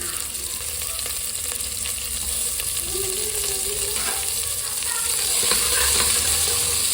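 Two onions fry in a pan with kasuri methi, giving a loud continuous sizzle and hiss. Scraping stirring strokes run through it, close up and steady, with no one speaking.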